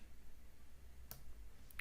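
A soft, close computer mouse click on a terminate button while ending a remote session, one sharp tick at about the midpoint and a fainter click near the end, over a quiet background hum.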